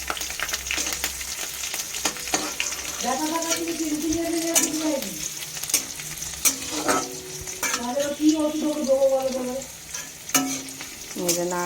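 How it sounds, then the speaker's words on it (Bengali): Chopped ginger, garlic and green chilli fry in oil for spinach while being stirred, giving a loud sizzle with sharp stirring clicks and scrapes, and a voice speaking briefly partway through. "এটা দিয়ে এবার একটু নেড়ে নেবো।"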